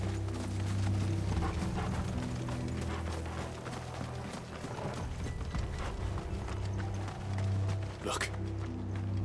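Horse hooves clip-clop in a fast, continuous rhythm in the video game Final Fantasy XVI, loud and close, layered over game music and ambience with a sharp accent near the end.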